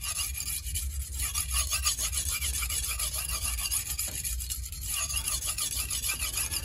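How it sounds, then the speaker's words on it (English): Dalstrong kitchen knife drawn in long sweeping passes across a whetstone, a continuous gritty rasping scrape with gentle rhythmic swells, close up and steady with no talking. "I'm gonna do some longer sweeping passes."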